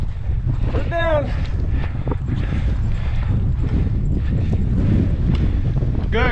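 Steady wind roars across the microphone during an upland bird hunt in eastern Oregon, a broad continuous rush that fills the clip, with a brief voice breaking through near the start.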